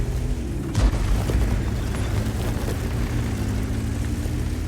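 Tank cannon fire in a video game: a single deep boom lands early, followed by a dense, rumbling battle din and low engine drone that stays loud and constant.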